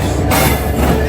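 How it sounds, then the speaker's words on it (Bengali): Padma Express pulled by an American-built diesel engine rolling into a Bangladesh Railway station, a brief, loud, dense rumble of the train close by. "1 ঘন্টা লেট করে পদ্মা এক্সপ্রেস মাত্র ঢুকতেছে"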